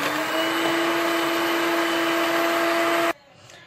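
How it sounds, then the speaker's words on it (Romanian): An electric hand mixer whirs steadily as it beats eggs with sugar and salt in a bowl for a chocolate cake batter, a loud continuous motor drone with a fixed pitch that cuts off abruptly near the end. "Am bătut ouăle cu zahărul și cu sarea în jur de 5 minute"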